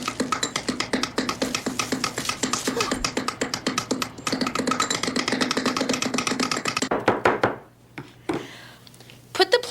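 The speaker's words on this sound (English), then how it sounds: "Get a hold of some leaves. And mush them up using a knife." A knife chops and mushes plant leaves on a cutting surface, rapid steady tapping knocks for about seven seconds, close and crisp, then a few scattered hits before it stops.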